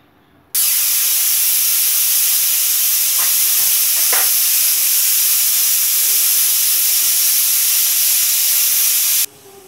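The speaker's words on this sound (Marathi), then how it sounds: "याच्या आपण 4 ते 5 शिट्ट्या काढून घेऊ म्हणजे डाळ मऊ होते" Pressure cooker on the stove hissing loudly as it vents steam while cooking dal, a continuous harsh rush that starts abruptly, holds steady for about nine seconds, then cuts off.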